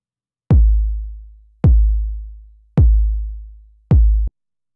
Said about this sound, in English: Why not begin with a nice kick drum?